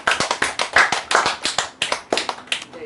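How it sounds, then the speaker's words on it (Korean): Clapping from a small lecture audience at a Korean online vegetarian nutrition class: a few close, distinct hand claps in a loose, uneven rhythm, each sharp and separate, with no talking. "그러면 박수 한번 치시겠습니다."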